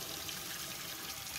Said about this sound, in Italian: facciamo un attimino prima uscire un poco d'acqua calda